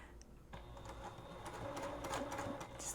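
A sewing machine stitches a sweatshirt seam during a zip-up conversion, running in a steady rapid whir with slight speed changes and a few clicks, close and fairly quiet.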